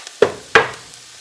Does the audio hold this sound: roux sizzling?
yes